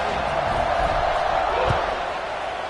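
A buzzing football stadium crowd after a score, a steady broad roar of many voices with a brief thump partway through, loud and continuous throughout.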